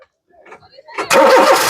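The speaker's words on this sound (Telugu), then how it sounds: "ఒకసారి స్టార్ట్ చేయి సింగిల్ సెల్ఫ్ లో కార్ స్టార్ట్ అయితే ఎటువంటి స్టార్టింగ్ ట్రబుల్ అయితే లేదు" A 2010 Honda City V automatic starts on a single crank, with brief quiet sounds before the engine catches and settles into a loud, steady idle close by.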